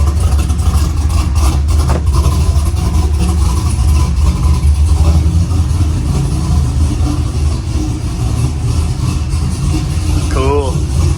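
A Chevrolet Silverado engine idles steadily after a fuel pump replacement, a continuous low rumble heard up close that holds even throughout, with a brief squeal near the end.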